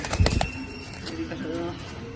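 A large male racing pigeon in a cage gives soft, close cooing calls with a few faint wing or cage flutters among low background noise.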